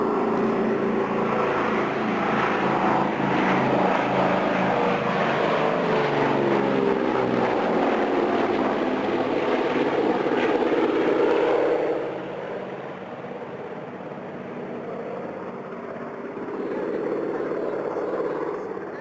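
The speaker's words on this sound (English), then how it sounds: "you're about to be demonstrated a fairly fast pass for a Caribou. This will be done approximately 140 knots" RAAF Caribou transport aircraft making a fast low flypast at about 140 knots at an air base open day, a loud, sustained propeller engine roar that swells, sweeps past and then fades.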